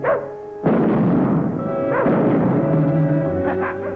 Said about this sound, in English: Hey, the dog's getting away.